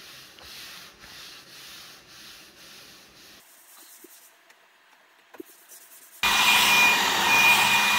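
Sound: sanding with sandpaper

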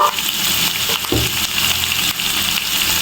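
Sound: spices frying and stirred in hot oil for mustard hilsa

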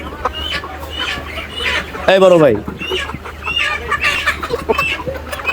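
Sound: chickens clucking at a chicken market

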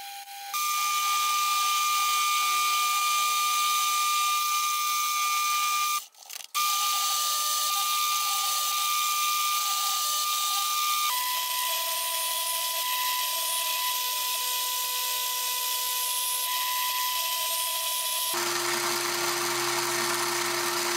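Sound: lathe turning a ball from 1045 steel rod stock

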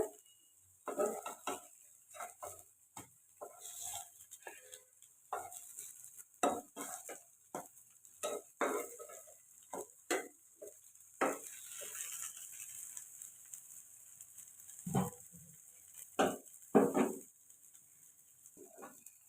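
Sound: lentil fritters (bora) frying and stirred in a pan

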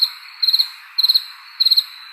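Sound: crickets chirping sound effect

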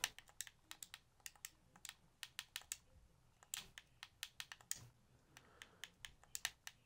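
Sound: typing on a computer keyboard

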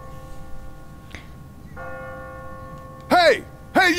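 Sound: church bell ringing, from The Walking Dead video game

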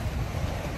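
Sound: wind blowing at the seaside

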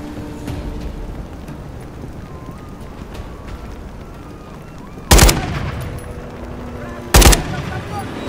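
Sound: gunfire from video game Call of Duty: Modern Warfare III

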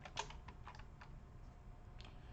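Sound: typing OpenGL code on a computer keyboard

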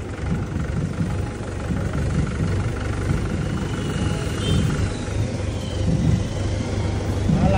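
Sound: tractor engine running during a tractor ride

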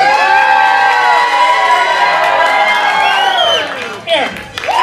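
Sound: audience applause and cheering at costume contest

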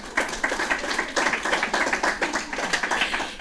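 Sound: audience applause

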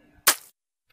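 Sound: gunshot in animated cartoon

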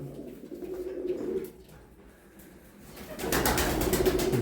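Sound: pigeon cooing

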